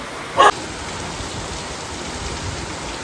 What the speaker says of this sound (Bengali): পুরো বৃষ্টি শুরু হয়ে গেছে ঝমঝম করে বৃষ্টি পড়ছে